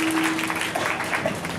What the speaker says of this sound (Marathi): जोरदार टाळी झाली पाहिजे साऊंड करता सुद्धा